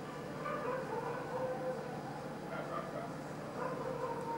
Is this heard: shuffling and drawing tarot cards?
no